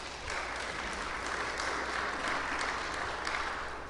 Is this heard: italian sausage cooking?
no